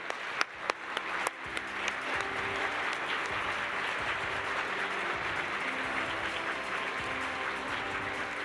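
Audience applause at a neurology conference award session, a few scattered claps swelling quickly into sustained, even clapping from a large crowd in a hall.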